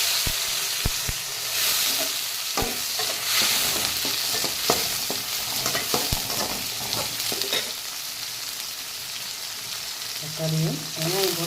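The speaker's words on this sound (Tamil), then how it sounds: "இப்போ நம்ம தக்காளியை போட்டுடலாம்." Tomatoes sauté with onions in a pan, giving a steady sizzle broken by sharp clicks and scrapes of a spoon stirring against the metal, mostly free of talk.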